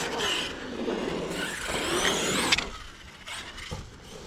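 A Tekno RC car drives close by, its electric motor whining and rising in pitch with shifting tones, then a sharp knock before it fades, with brief bursts of noise toward the end.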